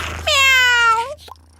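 A pet cat gives a single clear, drawn-out meow that rises then bends down at the end, close and loud, followed by a faint small sound and a low background hum.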